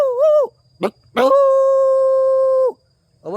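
A voice mimics a dog: a wavering howl-like call, a short gruff bark, then a long sustained yowl. The loud, close vocal bursts are separated by brief silences.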